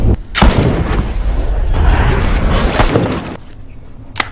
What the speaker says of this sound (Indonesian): masih tak percaya dengan akurasi tembakan dari seorang Yinan